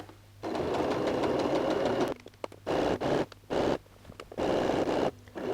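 A sewing machine stitches the neckline seam of a T-shirt in stretch fabric, running in several steady bursts of about a second or two each, separated by short pauses, close and fairly loud.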